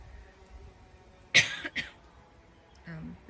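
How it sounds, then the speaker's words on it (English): Two quick, close coughs break a quiet background, followed by a brief murmur from a voice. "Sorry for my coughing."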